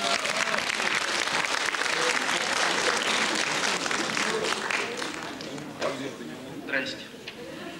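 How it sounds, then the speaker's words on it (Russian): An audience applauds a poet at a stage event, with loud, dense clapping and crowd noise that fades after about five seconds into scattered claps and murmurs. "в ожидании оваций и стадионных гулов казахстанский поэт Ербол Жумагулов"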